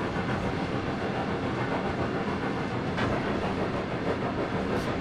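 A train running on tracks in the Trainz 22 simulator on the Brockenbahn, a steady rolling rumble with faint rhythmic clatter of wheels, continuous and fairly loud throughout.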